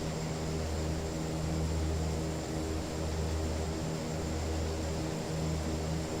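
Aircraft engine held at full throttle in the Prepar3D v5 flight simulator, a steady, droning roar with constant low tones and a hissy wash of airflow, unchanging throughout.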